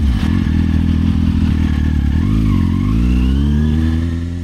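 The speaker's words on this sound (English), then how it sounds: "This is a Kawasaki Ninja 636 stunt bike" A Kawasaki Ninja 636 stunt motorcycle revs loudly up close, its engine note surging and climbing in pitch over a few seconds with a rough, clattering edge.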